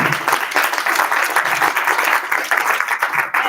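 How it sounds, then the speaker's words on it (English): A luncheon audience applauds, a loud, dense wash of many hands clapping steadily without pause, close and sustained throughout. "let's give him one more round of applause"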